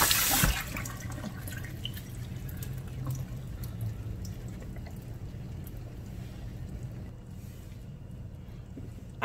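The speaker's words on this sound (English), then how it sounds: "I'm going to rinse it off just a little bit." Running tap water rinsing strained canned hominy in a sink, a steady soft splashing and trickling stream that stays fairly quiet and continuous throughout.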